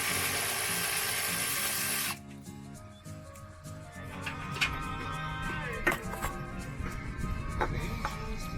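A ratchet with a 5/8 socket works nuts loose on a 2017 Super Duty truck, giving quick clicking and rasping bursts after an earlier steady hiss, close and moderately loud.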